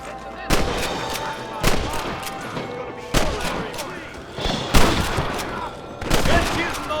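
Repeated gunfire in a Red Dead Redemption shootout, six sharp loud bursts spaced about a second apart, each with a short ringing tail, over a steady background din with faint voices.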